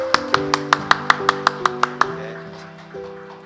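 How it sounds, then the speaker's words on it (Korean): A congregation at a Korean church's Sunday worship service in Jakarta claps in a steady, even rhythm, about a dozen crisp claps over sustained keyboard tones, then stops while the music lingers. "박수로 격려하겠습니다."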